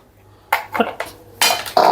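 A small mixer jar lid being fitted and twisted shut, a few short plastic clicks and scraping knocks in quick succession, close by and fairly loud.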